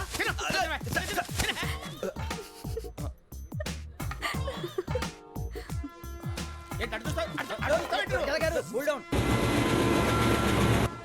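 A train running, heard aboard a train in a Telugu comedy film scene: a continuous rolling rumble under almost constant dialogue and bursts of laughter, with a louder rush of noise in the final seconds.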